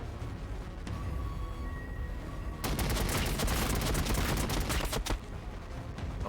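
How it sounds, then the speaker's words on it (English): Warhammer 40K Battlesector battlefield: after a quiet stretch with a faint tone, heavy volleys of gunfire break out, a rapid string of sharp cracks and bursts lasting a few seconds before easing off. "A lot of shooting over there."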